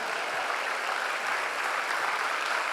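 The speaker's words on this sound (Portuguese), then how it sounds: "Mais forte esse aplauso" Steady, dense applause from a church congregation during a Baptist communion service, a continuous wash of many hands clapping at even loudness throughout, with no voices standing out.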